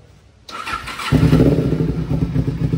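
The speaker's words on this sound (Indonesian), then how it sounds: "nih mesin aman halus ya" A 2010 Kawasaki Ninja 250cc motorcycle starts up after a quiet moment and settles into a steady, close idle with an even, throbbing engine note.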